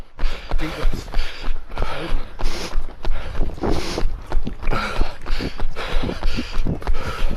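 Gusty wind buffets the microphone during a parkrun in rhythmic rumbling pulses, with water splashing and creaking as if from a rowing boat.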